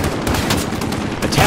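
A short burst of dense, overlapping gunfire from a Call of Duty Modern Warfare campaign battle, loud and steady with rumbling low end throughout.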